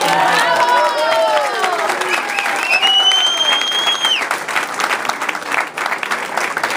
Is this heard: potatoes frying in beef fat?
no